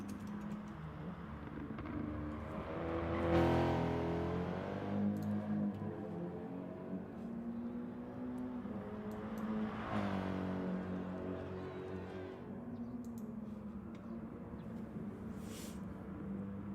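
Racing cars lapping the Sardegna Road Track in a video game, with a steady engine drone that swells into two revving passes and then settles, heard at moderate level and partly masked by background noise.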